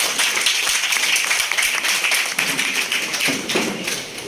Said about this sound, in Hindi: तो अपने लिए एक बार तालियां छोड़ बजाए।